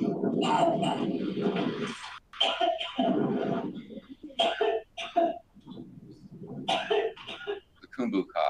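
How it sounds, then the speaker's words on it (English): Repeated harsh coughing fits of Khumbu cough, a high-altitude cough from dry air, rough and close, in bursts separated by short pauses. "The Kumbu cough"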